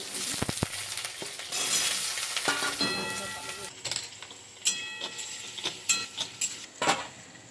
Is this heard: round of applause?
no